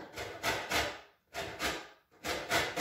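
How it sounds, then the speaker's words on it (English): An orange being zested on the fine side of a hand grater, three slow rhythmic rasping strokes, close and fairly quiet, with no voices. "just zest a little bit more of your orange on the finer part"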